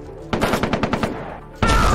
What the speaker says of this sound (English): Help! I'm getting shot at!